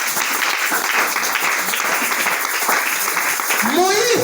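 A church congregation applauds and cheers together, a dense, steady wash of clapping and crowd noise that holds at full strength throughout, with voices mixed in toward the end.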